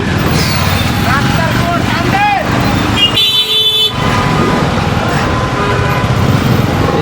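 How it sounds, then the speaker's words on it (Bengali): Dense road traffic packed with motorbikes rumbles loudly and continuously as short horn toots and a longer blaring honk cut through, with a rider talking over the din. "হাই, দেখো। হাজার হাজার বাইক।"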